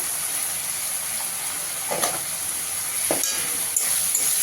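Masala with turmeric and salt sautéing in a pan for a Bengali prawn and taro-leaf dish, a steady soft sizzle with a few brief scraping stirs, no talk.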